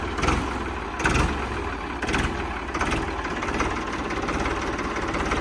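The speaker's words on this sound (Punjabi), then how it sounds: "ਟਰੈਕਟਰ ਦੇ ਕਰੀ ਸਟਾਰਟ ਵੀਰੇ ਲੈ ਕਲਾਸ ਸੁਣੋ ਬਾਈ" A Ford 3600 tractor engine idles nearby with a steady, low rhythmic chug and a few louder surges early on, running continuously without voices.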